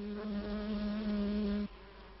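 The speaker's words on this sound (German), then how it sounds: "Bienen bei ihrer Nahrungssuche." A honey bee foraging on knapweed and clover hums steadily close by for a second or two, then the buzz cuts off, leaving quiet outdoor background.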